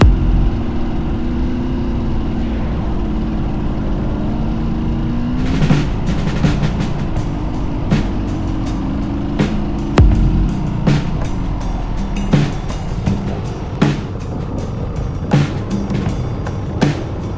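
An off-road motorcycle engine drones steadily while riding on a dirt trail, then the engine note shifts as clatters and knocks from rough terrain break in, loud and close throughout.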